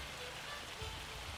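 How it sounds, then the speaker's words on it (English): Rain in a farming video game, a steady soft hiss of falling drops spread evenly throughout, moderately loud with no voices over it. "Run through the rain so you don't get wet."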